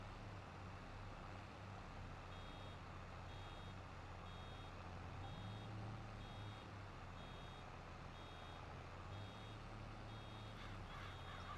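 A vehicle in Farming Simulator reverses on a farm field, its backup alarm giving evenly spaced, moderately loud beeps throughout over a low steady engine rumble and faint ambient noise.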